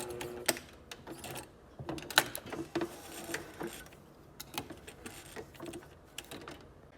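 A sewing machine finishes a quarter-inch seam allowance with a back stitch: quiet, irregular mechanical clicks and whirring bursts with sharp ticks, close and fairly soft.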